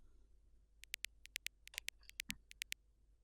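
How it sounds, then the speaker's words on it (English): A synthesized bass click layer plays alone, a faint series of sharp, bright ticks in an uneven rhythmic pattern, about a dozen short clicks with a few soft low thumps underneath. "And this, as you can hear, is just a click"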